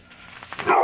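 Dogs barking indoors, a short bark building to a louder, sharper burst at the end, close by.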